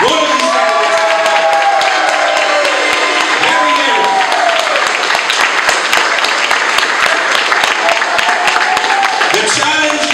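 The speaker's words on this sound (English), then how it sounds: "Let me hear a round of applause for every single one of these candidates." Loud, sustained audience applause for candidates at a political party meeting in Windwardside, dense clapping close by with voices and cheers mixed in throughout.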